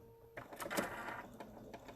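Sewing machine back-stitching over elastic on a cloth face mask: a short burst of rapid mechanical stitching clatter after a quiet start, close and steady, with no talk.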